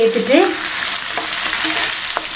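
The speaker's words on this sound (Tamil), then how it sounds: "தக்காளி சேர்த்துட்டு அது கூட கொஞ்சமாக உப்பு சேர்த்து வதக்கி விட்டுட்டு மூடி வச்சிடலாம்" Tomatoes and a little salt sautéing in a pan for a Tamil vegetarian lunch, with a steady, loud sizzle and the brief scrape of stirring up close.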